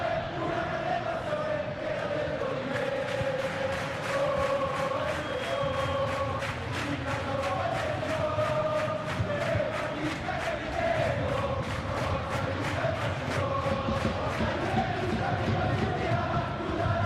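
Capacity stadium crowd at a Juventus vs AC Milan football video game match, a continuous distant roar of chanting voices with rhythmic clapping or drumbeats, steady and moderately faint.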